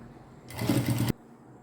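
A short sewing machine run of roughly half a second, stitching thick elastic waistband onto pants, with a steady rapid needle rhythm that starts and stops abruptly, close up and alone.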